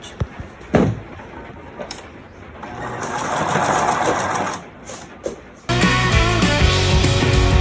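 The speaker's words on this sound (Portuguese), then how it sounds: "E aí eu costuro essa parte." A sewing machine stitches fabric doll pieces, starting with scattered handling knocks, then a steady whirring run in the middle, a brief stop, and a louder, rapid mechanical stitching burst near the end, close up and without speech.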